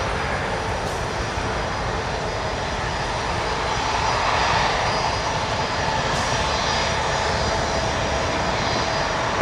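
A Boeing 737 MAX jet lines up on the runway at Toronto Pearson airport, its engines giving a steady, loud, broadband roar that swells slightly midway and holds throughout, with no voices.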